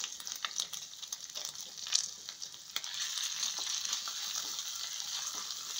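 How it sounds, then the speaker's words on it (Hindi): Grated garlic and ginger frying in hot oil, a close, steady sizzle with crackling pops and the occasional stir, heard alone. "ऑयल अच्छे से जब गर्म हो जाएगा तो हम उसमें अब डालेंगे अपने लहसुन जो हमने कसा था और अदरक, और इसको थोड़ी देर के लिए पका लेंगे"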